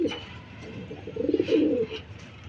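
Giribaz racing pigeons coo softly at close range, with a low burbling phrase rising midway and a few faint rustles around it, no voices.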